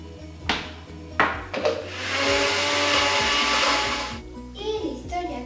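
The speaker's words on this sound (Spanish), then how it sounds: "Y lo vamos a licuar." Kitchen blender liquefying cream and purée into nogada sauce for chiles en nogada, a steady loud whir running several seconds between short clunks at the start and end.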